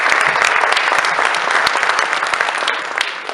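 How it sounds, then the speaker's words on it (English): A crowd at a chapter banquet applauding, steady dense clapping close and loud throughout, with scattered crowd noise mixed in. "can we go ahead and give a round of applause to everyone who's made tonight happen"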